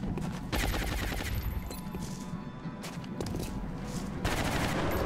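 Sustained gunfire lays down suppression on an alien in XCOM Long War, rapid automatic bursts with sharp cracks and crashes, loud and continuous, with a heavier burst near the end.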